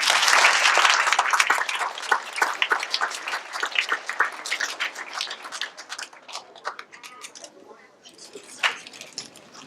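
Big round of audience applause for the judges at a school science fair, loud dense clapping that gradually thins into scattered individual claps over several seconds, with voices faintly in the background.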